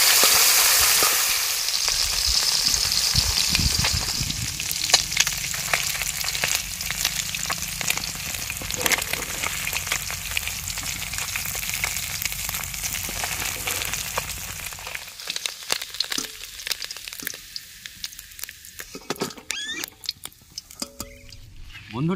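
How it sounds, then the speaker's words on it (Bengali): Boroli fish from the Teesta river sizzles loudly and steadily in a hot kadai, a dense frying hiss that thins and turns quieter and patchier toward the end. "এখন মাছটা ভাজা হবে"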